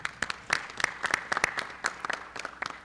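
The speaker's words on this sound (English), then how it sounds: "we want to thank our custodians and cleaners who did a great job in getting our space available and ready, so let's give them a round of applause." An audience claps for the custodians and cleaners. It is a short, sparse round of applause with individual claps standing out sharply.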